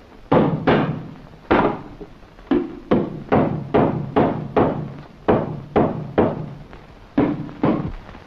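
Sharp tapping and knocking from someone building a toy rickshaw in a 1953 Hindi film scene: about a dozen close, loud wooden knocks in an uneven rhythm, heard alone.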